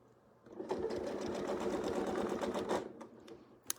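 A sewing machine stitches a straight quilting line guided by straight line rulers, a steady close mechanical whir running alone for about two seconds before it stops, followed by a couple of sharp clicks.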